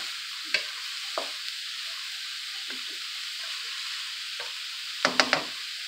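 Black beans and rice frying in a hot pan on lower heat, a continuous steady sizzle with several short spoon stirs and scrapes, a cluster near the end, no talk.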